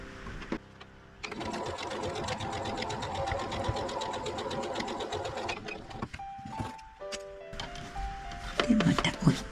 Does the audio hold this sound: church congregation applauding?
no